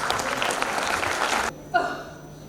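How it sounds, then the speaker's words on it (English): A school audience at an English Week celebration greets skit competitors with loud, dense applause that cuts off abruptly partway through, leaving quieter room sound and a brief voice. "Let us all welcome them with a big round of applause."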